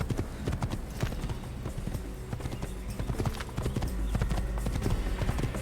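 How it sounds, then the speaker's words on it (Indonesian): A fast horse gallops in the video game Assassin's Creed on the road to Damascus, dense rapid hoofbeats pounding steadily with an occasional neigh, loud and continuous. "Naik kuda yang sangat cepat ini bro."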